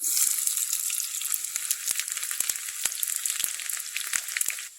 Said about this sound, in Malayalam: ഒരു അര ടീസ്പൂൺ കടുക് ഇട്ട് പൊട്ടിക്കാം കുറച്ച് ചെറിയുള്ളി ഇട്ട് കൊടുക്കാം